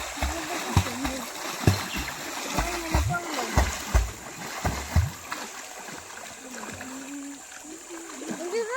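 A person wades and splashes into a river or stream for a bath in the Konkan countryside, making repeated close splashes and gurgling water sounds while people talk intermittently.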